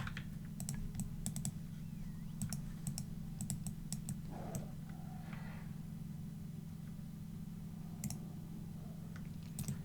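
A computer keyboard clacks in quick bursts of typing, close and crisp over a steady low hum, with a short pause midway.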